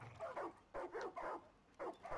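Dog in the video game Far Cry 5 barking in short bursts, about four or five clear yips and barks spaced across a couple of seconds, fairly close, with no talk over them.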